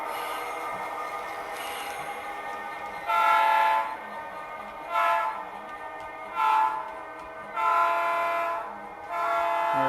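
A model locomotive fitted with a Tsunami 2 DCC sound decoder gives a low running rumble broken by several short horn blasts, each blast a bright burst followed by a pause, heard alone without speech.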